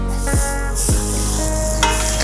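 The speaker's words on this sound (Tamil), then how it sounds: "இதை வெறுமனை, நெய்யெல்லாம் போட வேண்டாம், வெறுமனை போட்டு இதை ஃப்ரை பண்ண போகிறேன்" Grated coconut dry-fries in a pan over low flame without ghee, making a loud, continuous sizzle with a few scraping stirs mixed in.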